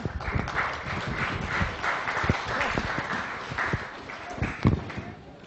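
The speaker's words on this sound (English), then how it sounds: "Thanks for the round of applause" Audience applause at the close of a science honours information session talk, a broad crackle of clapping from a room of people that runs steadily throughout with a few louder thumps.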